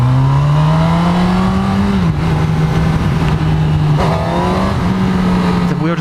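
A 2018 Honda CB1000R motorcycle engine roaring loud and close as it accelerates hard through gear changes, with steady wind rush over the microphone.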